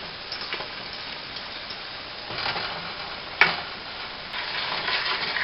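Noodles are stirred into a cheese sauce in a pan, a soft wet sizzle with scraping and stirring swells that pass in waves, plus one sharp clink partway through.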